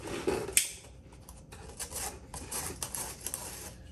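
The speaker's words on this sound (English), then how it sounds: "Should probably be using scissors, but I got so used to using a razor blade." Close, uneven scraping and slicing of a razor blade through material during a camper build, with a sharp tick near the start and soft rustling continuing throughout.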